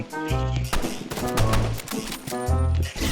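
Rapid gunfire in the Roblox shooter game Rivals crackles in sharp bursts over a steady, tonal game soundtrack, loud and close throughout the short stretch.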